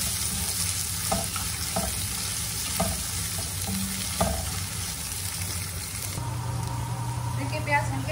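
Finely chopped onions fry over a medium flame for egg curry, a steady, dense sizzle with soft stirring taps that shifts slightly in tone partway through.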